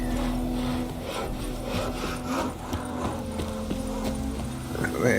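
Hoofbeats of Roach, Geralt's horse, trotting in The Witcher 3 game, a steady rhythmic clopping that plays over a low in-game ambient hum and runs for the whole stretch.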